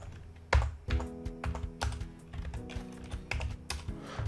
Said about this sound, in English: I need to type the sample code again